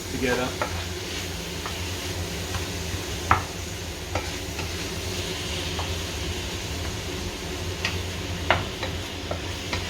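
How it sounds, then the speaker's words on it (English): Pasta cooks in a pot on high heat with a steady bubbling sizzle, while a utensil stirs and scrapes it in scattered clicks and knocks. There are no voices. "Stir it. This will cook together."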